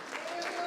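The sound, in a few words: congregation applauding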